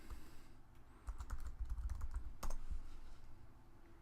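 Rapid clicking keystrokes on a computer keyboard, close and fairly quiet, in uneven bursts over faint room hum, with no one speaking.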